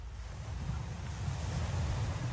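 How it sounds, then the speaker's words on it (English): Ocean surf in the video game RoadWarden, a constant low rumbling wash of waves with wind noise at a steady moderate level and no talk; no distinct seagull calls stand out. "Seagulls are as loud as the waves."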